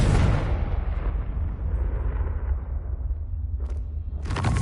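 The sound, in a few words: Confringo blasting spell explosion in the Hogwarts Legacy video game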